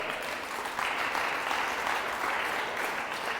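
A church congregation claps loudly for the Lord during a sermon, a continuous, even roar of many hands applauding from start to finish with no talk over it.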